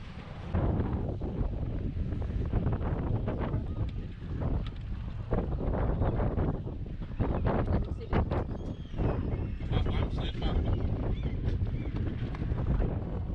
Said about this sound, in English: The wind was still pretty rough and it was blowing us against the pier